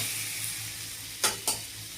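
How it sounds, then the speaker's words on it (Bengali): Fenugreek greens in a hot pan give a steady low sizzle, broken by two sharp utensil knocks or scrapes close together. "এখন এর মধ্যে আমি শাকটা দেব।"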